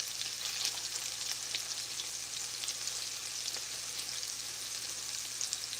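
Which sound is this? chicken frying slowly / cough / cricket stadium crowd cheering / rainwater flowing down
chicken frying slowly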